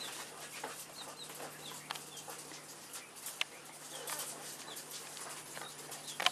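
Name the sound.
young pheasants calling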